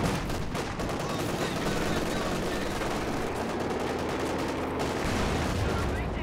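Machine gun fire from a battle in the Company of Heroes 2 strategy game: a dense, continuous rattling din of automatic gunfire that stays loud and steady throughout, mixed with other battlefield noise.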